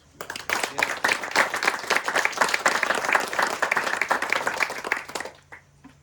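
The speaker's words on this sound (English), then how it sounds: "I think they deserve another round of applause" An audience at a park ribbon-cutting ceremony bursts into applause, a dense burst of many hands clapping that rises quickly, holds steadily for about five seconds, then dies away.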